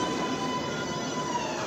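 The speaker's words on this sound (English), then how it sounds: "And a train is a coming." A continuous rumbling roar of a New York subway train approaching in Queens, loud and steady, with a faint high whine running through it.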